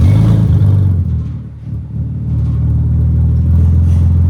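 Ford Raptor engine with a Flowmaster Outlaw series exhaust revving loud and close, a deep throaty roar that dips briefly before surging back into a sustained heavy rumble.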